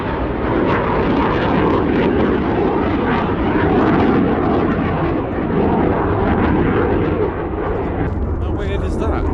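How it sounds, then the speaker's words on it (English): Two Eurofighter Typhoon jets take off near Coningsby, a loud, sustained roaring rumble of jet engines that fills the whole stretch at steady intensity. "2 Eurofighters take off, 2 Typhoons take off."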